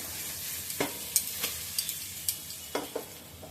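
Eggplant fries in fish oil with green chillies in a pan, giving a constant close sizzle broken by sharp spatula clicks and pops as the pieces are turned.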